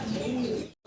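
Fancy pigeon held in the hand, cooing in a steady low murmur for most of the moment before a brief cut to silence, close and moderately loud with no talk over it.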